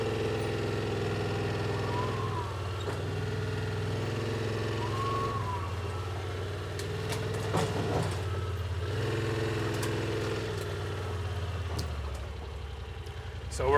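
A Yamaha Wolverine X2 utility side-by-side in low range and four-wheel drive crawls off-road through mud, its engine droning steadily and rising and falling in pitch throughout, close and loud.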